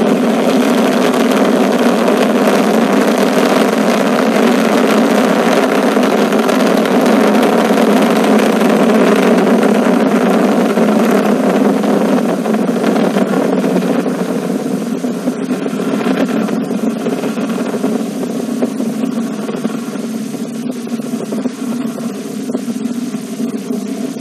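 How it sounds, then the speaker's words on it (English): An Ariane 5 rocket lifts off from its launch pad carrying the BepiColombo spacecraft, its Vulcain main engine and solid boosters producing a loud, continuous, deep roar that fills the whole stretch and fades only slightly toward the end. "Roar of her engines, a lot of fire"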